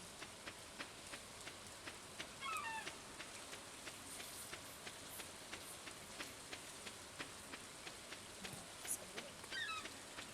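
Rain falling in the farming game Stardew Valley, a quiet, even hiss of rainfall with faint regular ticking and a few brief chirps over it.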